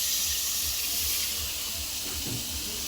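Water poured into a pan over meat masala for a Bengali-style fish curry, a steady faint hiss and trickle with a slight sizzle rising near the end.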